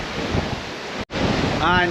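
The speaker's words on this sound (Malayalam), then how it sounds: "പെട്ടെന്ന് തുറക്കുമ്പോൾ ഭയങ്കര വിൻഡാണ് വരുന്നത്." Strong wind buffets the microphone with a steady roar over a violent, rough sea along the New Zealand coast, cutting out for a split second before surging back, with a faint tonal whine near the end.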